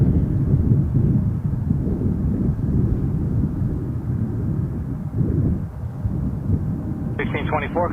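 A Porter Airlines Embraer 195 E2 airliner at Toronto Pearson Airport sends a steady, loud engine roar with wind-buffeted rumble, sustained throughout, and a short burst of radio chatter near the end.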